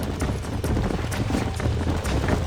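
Horse hooves clip-clop in a rapid, uneven gallop across dirt at a ranch in Red Dead Redemption, a continuous pounding rhythm at moderate level under low ambient rumble.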